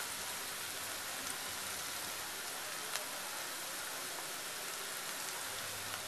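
Onion browning in a pan with salt for a kasuri methi dish, a steady soft hiss of sizzling that carries on evenly throughout, fairly faint and with no voices.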